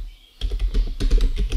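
Computer keyboard typing a search in Windows, a quick close run of crisp key clicks after a brief silence, with no voices.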